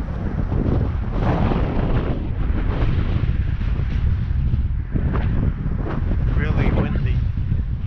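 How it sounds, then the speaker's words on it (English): Loud, continuous wind buffets the microphone with heavy low rumbling and gusty surges throughout, close and overwhelming, on a blustery November day at Lake Elkhorn Park in Columbia, Maryland. "It's a blustery day."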